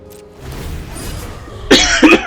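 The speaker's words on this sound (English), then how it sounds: "Sorry for the cough." A person coughs twice, close and loud, a sharp burst followed by a second shorter cough after a low steady room hum.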